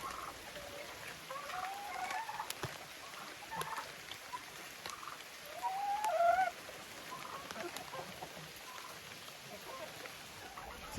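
Chickens in a coop give sparse, faint clucks, one short burst a little louder, under a steady low background wash.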